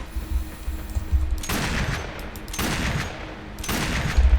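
Hitscan rifle fire in the video game Warframe: three loud bursts of shots about a second apart, each a sharp crack with ringing tail, over a steady low game soundtrack with no talk.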